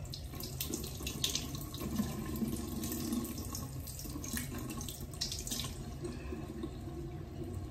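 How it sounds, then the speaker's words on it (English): Water runs steadily from a tap into a sink, a continuous close splashing hiss throughout. "so I'm putting it in water"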